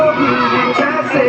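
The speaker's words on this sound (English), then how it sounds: "Big claps, all of you." Crowd noise at a children's fancy-dress event, with children and adults clapping and cheering for the performers: a dense, loud, continuous wash of voices and applause with no pauses.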